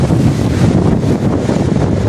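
Strong typhoon wind on a small island in Barangay Bani, Lavezares, Northern Samar, during Typhoon Uwan: a steady, loud, low roar of gusts buffeting the microphone, with no voices.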